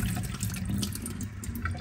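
Soaked pitted dates being drained of their soaking water in a kitchen, a short burst of splashing and trickling liquid, close and continuous with small drips throughout.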